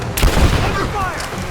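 Gunfire erupts in a tense firefight in Rise of the Tomb Raider, a cluster of sharp bursts early on followed by a sustained rumbling din of combat.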